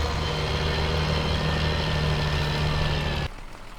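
A spraying tractor engine in Farming Simulator 17 as it reverses, a steady loud low droning hum that cuts down abruptly to a quieter idle near the end.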